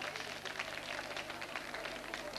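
A women's polytechnic college audience at a Holi quiz show claps for a contestant, a steady, moderately loud wash of many hands that carries on without a break, with a faint voice in the background.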